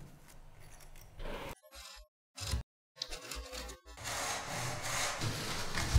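A miter saw cuts through baseboard in a few short bursts separated by silences, then a longer rough grinding cut follows, fairly close.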